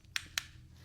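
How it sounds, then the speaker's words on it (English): Two sharp, bright clicks from a small handheld remote, spaced about a quarter second apart, close and crisp over a quiet background. "So I have this little remote that makes a click sound like this"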